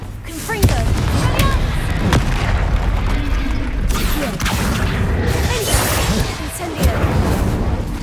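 Booming spell blasts go off in a Hogwarts video game, repeated explosive impacts and crackling bursts layered over game sounds and shouted incantations.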